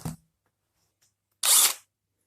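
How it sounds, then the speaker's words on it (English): An electric screwdriver is used while repairing a Sanyo clock radio, giving one short, close whirring burst of under half a second after a brief click and near silence. "Sometimes you've got to realize a electric screwdriver is not the right tool."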